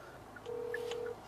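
A single clear telephone keypad tone beeps for just over half a second when dialing a phone outdoors, faint against soft background noise, with no one speaking.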